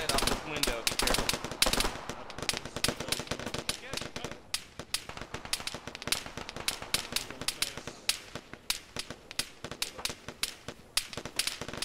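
Rapid automatic gunfire from a video game, fired out of a window in a military combat scene: dense, loud bursts of shots crackling continuously throughout, with sharp cracks and little pause between volleys.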